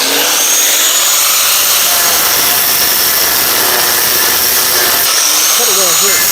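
A power tool cuts through an old muffler bracket on a Ford F600 truck frame, a loud steady broadband grinding roar that runs the whole time, with faint voices briefly underneath near the end.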